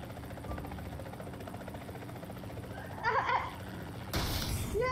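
Steady rotor chop of a helicopter in the mobile battle-royale game PUBG Mobile, running as a constant background drone with brief louder bursts of other game noise near the end.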